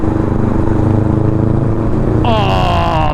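A Honda Rebel 500 motorcycle fitted with a Vance & Hines exhaust burbles and rumbles loudly up close while riding, a throaty low pulsing note that shifts near the end as the engine lets off.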